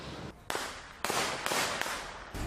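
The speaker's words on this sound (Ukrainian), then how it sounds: "Це відео пострілів зафіксували свідки." Several sharp, loud cracks of gunfire in quick irregular succession during a police shooting incident in Mykolaiv, each a sudden broadband burst with a short echoing tail.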